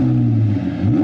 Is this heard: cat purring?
no